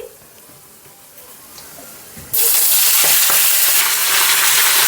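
Crumbled vadi, a little panch phoron and Malabar spinach drop into hot oil in a village kitchen, setting off a loud, sustained sizzle that bursts up midway after a quieter simmer, with no talking.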